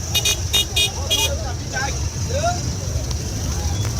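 Motorcycle and taxi horns honk in a busy street, with several short, loud toots bunched at the start over rumbling traffic and crowd babble.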